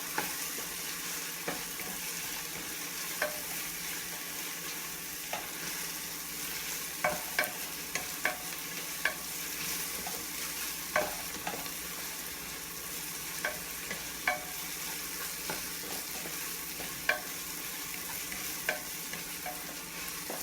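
Onions sautéed in a pan for mutton chalna give a soft, steady frying hiss, punctuated by regular scraping and tapping of a spatula against the pan that grows more frequent partway through.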